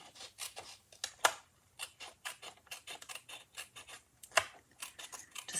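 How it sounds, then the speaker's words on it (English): Craft snips cutting through cardstock paper during a card-making fold project, a rapid series of sharp, close snips in an uneven rhythm, with a couple of louder clicks standing out. "I'm going to take my snips and I'm going to snip that off"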